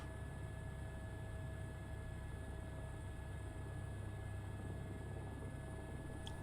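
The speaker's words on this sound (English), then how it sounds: "getting lined up on the runway here for our departure" An airplane lines up on the runway for departure, its engines holding a constant, even drone with faint steady tones throughout and no talking.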